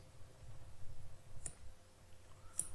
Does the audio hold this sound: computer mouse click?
yes